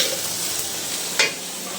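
Pumpkin flowers go into a frying pan with a steady close sizzle and stirring hiss, and one sharp brief burst of crackling about two-thirds of the way in.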